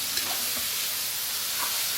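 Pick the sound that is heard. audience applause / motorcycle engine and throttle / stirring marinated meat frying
stirring marinated meat frying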